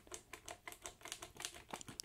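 Rapid, quiet clicking and rattling as a keycap is wiggled side to side off a Cherry MX keyboard switch, a dozen or so close, light taps in an uneven rhythm.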